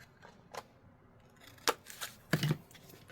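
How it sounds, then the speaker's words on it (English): Scissors snip a piece off a handmade freestyle journal: a few short, separate cutting and paper sounds spaced over a couple of seconds, with the last one louder and longer, close by in a quiet room. "I think I want to cut this bit off."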